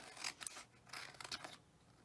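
Scissors trimming scrap vinyl in a crafting session, a few quick close snips and rasping cuts over about two seconds, quiet and isolated.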